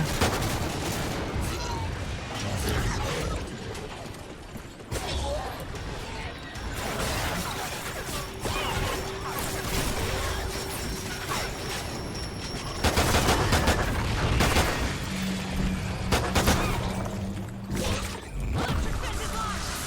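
Gunfire from a Call of Duty match: dense bursts of automatic and single shots crackle throughout, loud and close, with explosions and game effects mixed in and a voice talking now and then.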